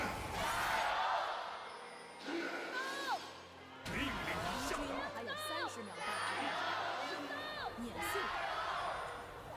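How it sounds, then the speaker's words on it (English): An esports arena crowd yells and roars in waves at a League of Legends match between LGD and EDG, a loud sustained wash of voices with whistles and whoops, no commentary over it. "Let's let the crowd have a bit of a yell."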